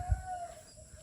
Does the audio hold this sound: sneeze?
no